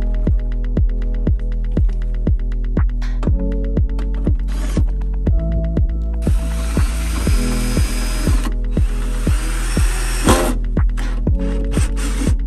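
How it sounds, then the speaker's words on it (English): A power drill drives self-tapping screws into the doors of an old Land Rover Defender 90. A steady motor hum runs under a rapid, regular ratcheting clatter, growing harsher and louder as screws bite midway, close and with no talk. "we're just going to fit the kit using self-tapping screws, which I just drill straight into the doors"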